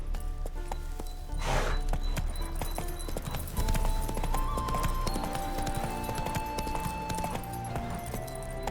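Horse galloping in The Witcher 3, rapid rhythmic hoof clip-clops close up with a brief whinny early on, layered over game music and ambient sound.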